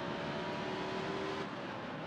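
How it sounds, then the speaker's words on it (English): Race cars circle a track in the Dirt to Daytona stock-car racing video game, a steady droning engine roar with a faint whine holding on, heard continuously without talk. "And now I'm still hearing the cars bang around"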